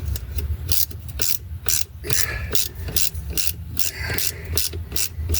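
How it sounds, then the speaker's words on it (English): A small ratchet wrench turns a bolt while joining the transmission to the engine of a 2009 Dodge Journey, giving a close, loud run of rapid, evenly spaced clicks in repeated bursts. "I have to use my little wrench"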